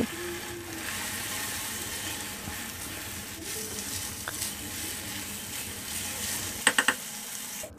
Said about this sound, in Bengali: চালগুলো দিয়ে একটু ভেজে নিব।